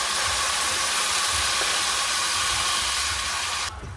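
Water pours steadily into a pot of soaked kodo millet as one and a half cups are added, a continuous close rushing hiss that stops abruptly just before the end.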